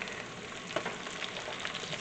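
Ground beef frying in its own grease sizzles steadily and softly, a continuous crackling hiss with a small pop partway through.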